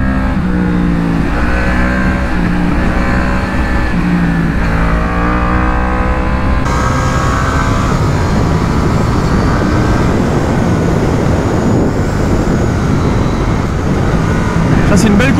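A KTM 890 Duke R motorcycle rides at speed with a loud, continuous engine roar and wind rush throughout, the revs shifting partway through.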